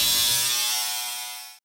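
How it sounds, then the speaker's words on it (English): An electric razor trimmer shaving neck hair gives off a loud, close, steady buzz that fades slightly before cutting off abruptly after about a second and a half. "these clippers do an excellent job of shaving longer hairs"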